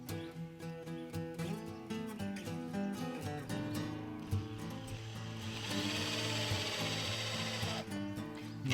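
A power drill drives screws into an axle assembly, whirring in short uneven bursts that rise to a longer steady grind near the end, with tonal background sound underneath.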